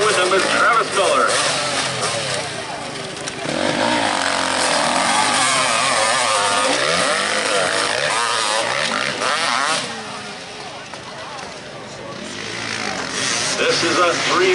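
MX Lite dirt bikes race in a 2019 supercross event in Hutchinson, Minnesota, several small engines buzzing and revving loudly and unevenly as they pass, under continuous announcer speech over a public address system.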